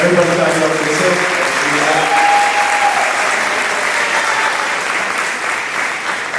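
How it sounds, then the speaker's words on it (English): A graduation crowd breaks into sustained applause for a staff member, a dense, steady wash of many hands clapping in a large hall, with a brief tone and some voices faintly beneath it. "Everybody clap it up for Miss Hill."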